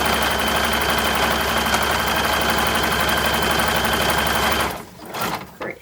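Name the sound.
modern serger sewing fabric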